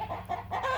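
Young sex-link hens cluck in a brief, close run of soft, repeated murmuring calls.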